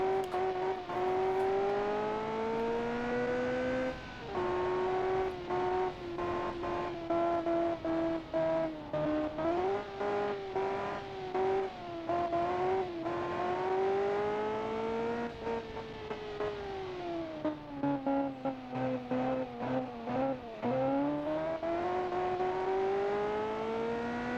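A prototype race car engine in a racing sim screams near its RPM limit, a loud continuous high whine that rises and dips with gear changes and brief lifts, steady and close with no talking over it.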